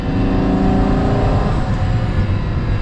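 A Pagani Huayra Roadster's engine pulls hard from inside the cabin, a loud, dense, continuous roar whose pitch climbs and then shifts as the car changes gear, with no talking.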